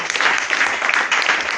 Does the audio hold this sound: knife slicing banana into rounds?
no